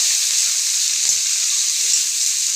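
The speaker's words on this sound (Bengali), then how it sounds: "পেঁয়াজটা এবার লাল লাল করে ভেজে নেবো" Chopped onions fry in a pan after dried red chilies, browning for a chicken curry with new potatoes: a steady, loud, even sizzling hiss that runs unbroken throughout, with no voices.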